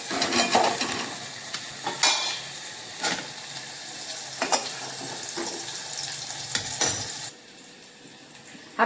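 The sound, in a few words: sautéing onion in oil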